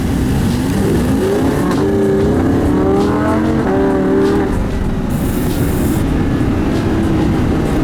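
Lamborghini Huracan engine accelerating hard from a standstill at a red light, loud and close, with rising rev sweeps climbing through the gears as the car pulls away.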